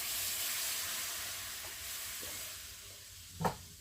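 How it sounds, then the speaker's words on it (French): Red Thai curry paste and coconut milk in a wok: a quiet, steady sizzle and hiss with faint stirring scrapes and a brief clink of a utensil near the end. "Dans mon wok, je viens mettre ma pâte de curry. J'ajoute la moitié de mon lait de coco."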